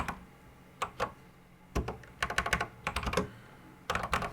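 Keys clatter on a Commodore 64 keyboard as a line of code is retyped, with quick bursts of clicky strokes separated by short pauses, close and clear with no talking.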